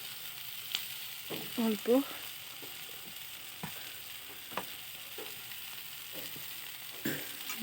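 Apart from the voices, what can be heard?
spices frying and being stirred for chicken curry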